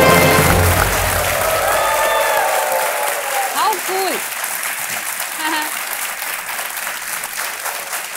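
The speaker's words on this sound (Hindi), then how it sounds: "तालियां बजती रहे देवी सरकार." Studio audience applause on the KBC quiz show set, loud sustained clapping that swells early and slowly thins, with a brief spoken exclamation and some host talk mixed in.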